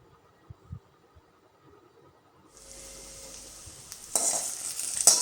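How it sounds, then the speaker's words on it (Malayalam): Okra sautés in oil in a pan while a Kerala curry is being made, starting quiet and then building into a steady hiss of sizzling with stirring scrapes, close and alone. "അതിലേക്ക് നമുക്ക് ഈ വെണ്ടക്ക ഇട്ടിട്ട് കുറച്ചൊന്ന് വാട്ടിയെടുക്കാം."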